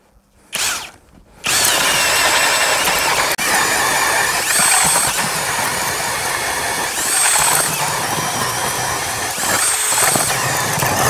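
A Ridgid Octane cordless drill on speed 1 with a 9-amp-hour battery powers a K-Drill ice auger, whining loudly and steadily as it grinds through about 21 inches of ice after a brief start-stop, with occasional squeals.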